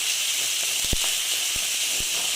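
Grated ginger frying in hot oil, making a steady, dense sizzling hiss throughout with a few faint low clinks, close and constant.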